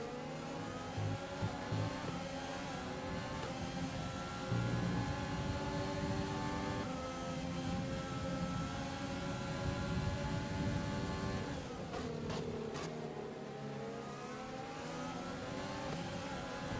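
An F1 race car engine in the F1 2020 racing game screams at high revs, a continuous loud whine that rises and falls through gear shifts and drops briefly near the end under braking.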